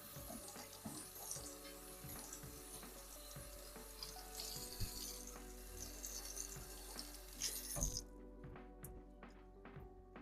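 Berkey water filters being rinsed under a running tap, a steady rushing flow with handling knocks, then the water cuts off and a few faint drips and clicks remain.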